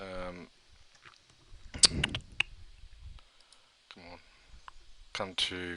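Several sharp computer keyboard key clicks, pressed to take a screenshot, come in a quick cluster in the middle, with someone talking before and after them.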